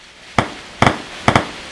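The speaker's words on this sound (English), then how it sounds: "Those fireworks are loud." Fireworks in a Roblox game pop in sharp, loud bursts, a single bang followed by two quick doubled cracks, spaced evenly over a quiet background.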